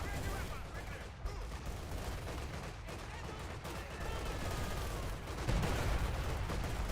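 Bursts of machine gun fire from an MG nest in a Company of Heroes 2 battle, steady rattling volleys mixed with distant battle noise, with a voice talking over it.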